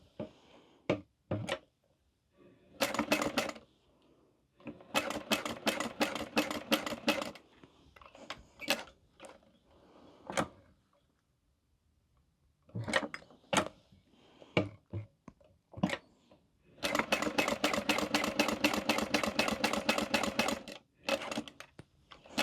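A home sewing machine top stitches a small fabric mini wallet in several short, loud bursts of rapid chattering stitches separated by near-silent pauses, including a quick back stitch, with no talking.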